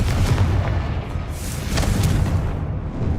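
A Confringo fire spell from Hogwarts Legacy explodes in a deep, rumbling blast that rolls on for about three seconds, loud and close, with no talking.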